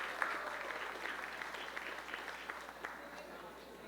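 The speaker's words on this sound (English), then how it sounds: "How about another round of applause for Debbie Parazala?" An audience claps for a contestant at a costume contest. The round of applause sounds soft and somewhat distant, with a steady patter and a few sharper claps standing out.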